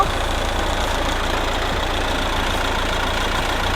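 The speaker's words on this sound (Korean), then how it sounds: "엔진 소리 일정합니다" A Mercedes-Benz C200 d diesel engine idles at a steady, even rumble, loud and unchanging from start to finish.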